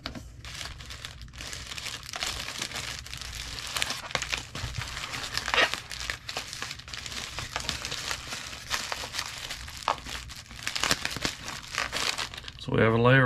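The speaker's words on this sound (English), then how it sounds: "So we have a layer of bubble wrap and one layer of packing paper." Bubble wrap and packing paper rustle and crinkle as an item is wrapped for shipping in a 6x4x4 mailing box, a continuous close crumpling with bursts of tearing under a speaking voice.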